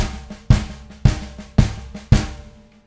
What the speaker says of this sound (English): So my kick drum's gonna play with my hands on all the accented notes